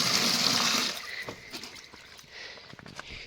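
Well water gushes from a hand pump in a rural farmyard, a loud splashing pour for about a second that then thins to scattered trickles and drips.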